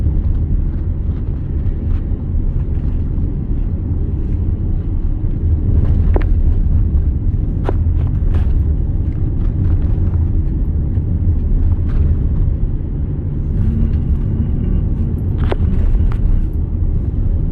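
A car drives a rough, bumpy stretch of Clinton Road, giving a steady low rumble with scattered knocks and jolts from the uneven surface, close and continuous with no talking.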